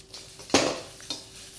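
Chicken and baby corn stir-fried in a wok: two sharp metallic clanks of a utensil striking the wok, the first louder, over a faint background hiss.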